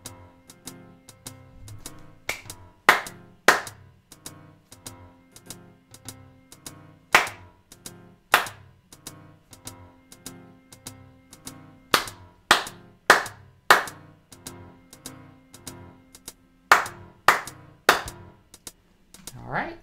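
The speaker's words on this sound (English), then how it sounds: "we're going to listen and then clap the rhythm that we see" Hand claps beat out a written rhythm in time with a steady music track from music-reading practice software, sharp close claps landing in irregular groups over the backing, with a voice counting in faintly at the start.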